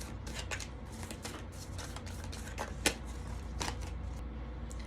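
Tarot oracle cards are shuffled by hand, a quick run of soft, papery riffles and slaps close by, with one sharper snap midway over a steady low background hum.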